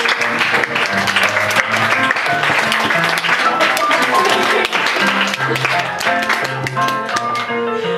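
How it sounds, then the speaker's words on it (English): An audience applauds a speaker at the close of a talk, dense clapping running throughout with steady musical tones sounding beneath it. "let's give a round of applause for Eric."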